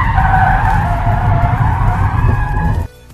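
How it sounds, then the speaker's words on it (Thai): Car tires skid loudly through an emergency lane change at 90 km/h with the vehicle stability control switched off, a sustained squealing roar that runs for nearly three seconds before cutting out abruptly. "ทดสอบเปลี่ยนเลนฉุกเฉินที่ความเร็ว90กิโลเมตรต่อชั่วโมงครับ"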